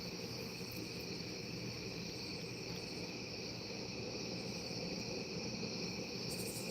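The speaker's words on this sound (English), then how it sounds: "You hear how loud the crickets are?" A dense, steady chorus of crickets chirps continuously at night, loud and close, with a constant high-pitched trill and no voices.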